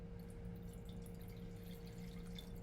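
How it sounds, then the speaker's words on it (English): Gaja Barolo Sperss wine poured from a 1.5 L magnum into a glass in a wine cellar makes a faint, steady trickle and gurgle with a low hum behind it, and no talk. "Let's pour a glass and go over it a little bit. Let's get the video of it. You can see it pouring."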